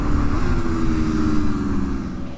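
A 2026 Aprilia RSV4 Factory sportbike engine droning loudly and steadily at high revs, a dense sustained roar that eases slightly toward the end.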